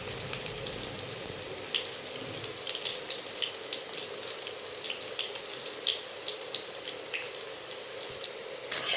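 Potatoes fry in a pan over low to medium heat with a continuous soft sizzle and scattered crackles, alone and fairly quiet.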